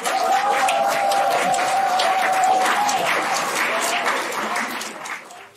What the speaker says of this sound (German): immer wieder gibt es bestätigende Zwischenrufe oder Applaus für die